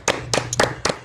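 Four or five sharp hand claps ring out in a quick, even rhythm, close and fairly loud.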